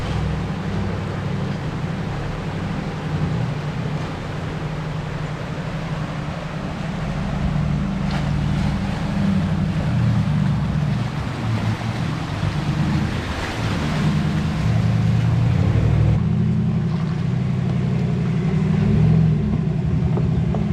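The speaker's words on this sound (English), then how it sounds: "it's the big girl's very first river crossing" A 4WD pushes through a river crossing in rugged high country, its steady low engine rumble mixed with continuous rushing water and broad wind-like wash, loud and close throughout with a slight swell midway.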